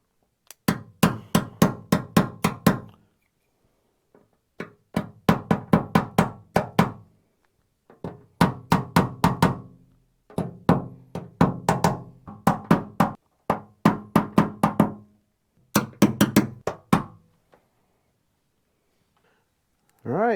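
Tapping and bar work on a car body dent during paintless dent repair: bursts of rapid, sharp metallic taps in quick clusters, repeated several times with short pauses between, close and fairly loud, without talk.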